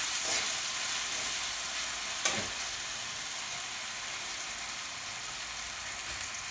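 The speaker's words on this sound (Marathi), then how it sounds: "चांगलं परतून घ्यायचे बटाटे" Diced potatoes fry in hot ghee in a pan, giving a steady, even hiss of sizzling with one brief stirring clatter partway through.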